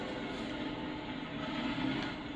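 A train rolls past in American Truck Simulator, a steady dense rumble of rail noise holding at a constant level through the whole stretch, with no talk over it.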